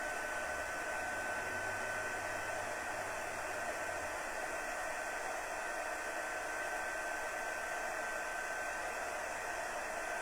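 An embossing heat tool blows steadily on a small piece of cardstock, a constant hair-dryer-like whoosh with a fan whine, heard up close and uninterrupted without any voices.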